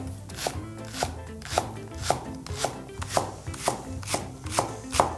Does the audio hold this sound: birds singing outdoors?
no